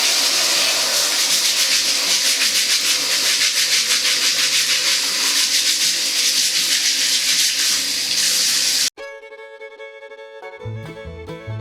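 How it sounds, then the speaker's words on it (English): Potatoes with skins on being scrubbed under running water, a loud continuous rubbing and splashing that cuts off abruptly near the end, followed by brief quieter tones. "I'm going to be dehydrating these potatoes with the skins on, so the first step for me is just to scrub them off."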